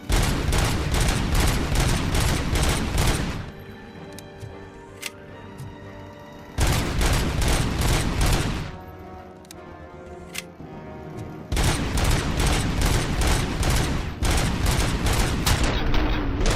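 Gunfire in the RoboCop: Rogue City video game comes in three long, loud bursts of rapid automatic shots, separated by quieter gaps with a few isolated single shots.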